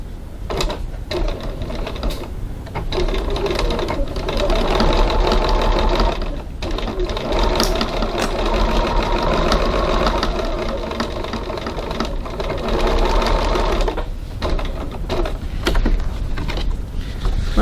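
Sewing machine stitching faux leather at a 2.6 stitch length, a close, loud rapid mechanical chatter running in long bursts with brief stops and starts throughout.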